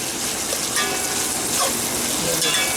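Eggs frying and spitting in a pan of hot oil for a Guyanese-style egg curry, a steady close crackle and sizzle running the whole time with small pops on top.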